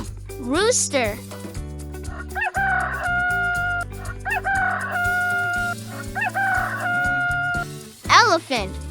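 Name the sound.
rooster crowing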